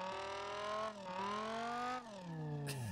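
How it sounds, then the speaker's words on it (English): A Nissan 240SX engine revs hard in the racing game SLRR, a loud, continuous drone whose pitch climbs steadily, dips briefly twice as if between shifts, then winds down at the end. No one talks. "it's just the engine is just yelling"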